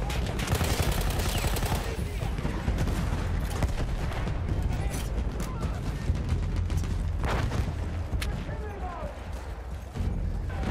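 Heavy cannon fire and gunshots boom around the player in the video game Battlefield 1, a loud, dense barrage with a voice speaking under the blasts.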